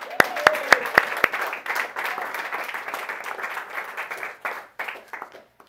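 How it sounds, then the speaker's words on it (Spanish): A few sharp, loud individual claps open, then a congregation at a devotional service bursts into a broad wash of applause that holds steady before thinning out and fading to silence. "Un aplauso para el Señor."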